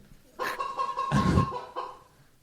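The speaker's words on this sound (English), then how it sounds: "A chicken sound effect, for those of you that missed it" A chicken clucking sound effect played during a comedy show: a few quick, close, fairly loud clucks and squawks in a short burst that then fades.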